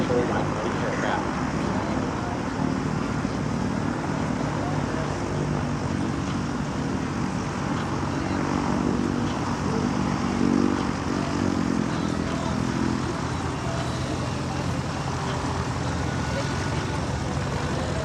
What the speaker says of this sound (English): the aircraft will be flying at just under 120 miles an hour